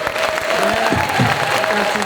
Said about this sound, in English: Let's give a big applause to Rob Gautier.